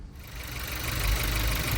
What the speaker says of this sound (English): And now we've jump-started our vehicle.